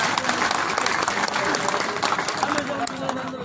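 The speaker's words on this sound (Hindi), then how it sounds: "इनके लिए एक जोरदार ताली आप लोग की तरफ से" Loud, dense applause from an audience at a public welcome ceremony for an IAS officer in Chakai, Jamui, sustained and even throughout, with crowd noise mixed in.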